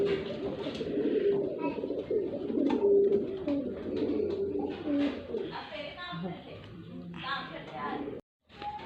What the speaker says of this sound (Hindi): ये देखिए ये कबूतर हैं, इनको भी ढका हुआ है सर्दी में